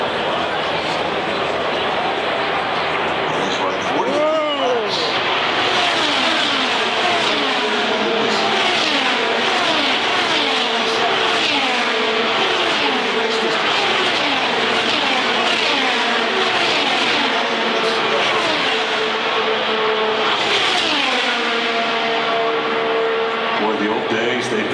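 IndyCar race cars lap the Indianapolis 500, engines screaming past in repeated rising and falling Doppler sweeps, one car after another, loud and continuous with a commentator talking over the roar.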